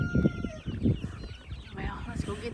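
Rooster and hens clucking in a farmyard while the birds are moved out, with bursts of low clucks and calls near the microphone at a steady, choppy rhythm, and brief voices mixed in.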